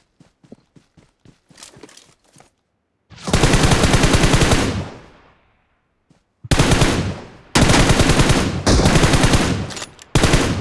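Automatic gunfire in a shooting video game rattles in loud, sustained bursts, opening with a few spaced single shots and then long rapid volleys separated by brief gaps.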